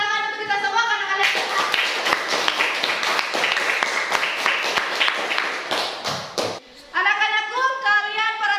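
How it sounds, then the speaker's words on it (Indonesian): A classroom group claps their hands together in a burst of lively applause, many hands clattering at once for several seconds before it stops abruptly, with a voice speaking just before and after. "tepuk tangan untuk kita semua"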